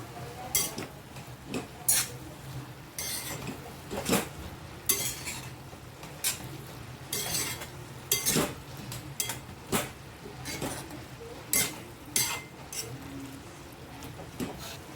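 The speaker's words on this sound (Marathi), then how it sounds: "पालक आपला खाली बसला आहे आपण परतून घेऊया" Spinach being stirred and sautéed in a pan for Hyderabadi paneer masala, with a metal spoon repeatedly scraping and clinking against the pan over a soft sizzle, about a dozen sharp strokes at an irregular pace and no talking.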